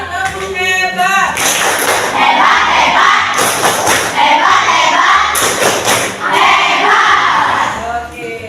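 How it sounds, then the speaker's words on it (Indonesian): Children in a classroom give a rhythmic group clapping cheer, loud bursts of claps and shouts recurring every couple of seconds over a busy crowd noise. "Tepuk hebat buat semuanya."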